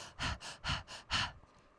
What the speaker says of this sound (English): we tend to have these panting breaths